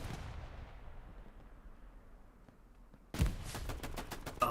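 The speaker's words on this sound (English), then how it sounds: "Gonna throw a grenade." In the video game Hell Let Loose, a grenade blast's low rumble dies away into near quiet, then loud, close gunfire suddenly bursts in with rapid, sharp reports.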